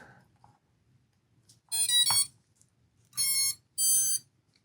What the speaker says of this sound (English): So the lost model alarm on here,